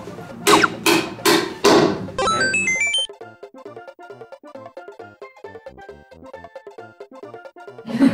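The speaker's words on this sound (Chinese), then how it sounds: "就拿那个锤子砸" A hammer strikes during a balloon game on a film set: four sharp, loud blows in quick succession, then a run of light chiming electronic tones.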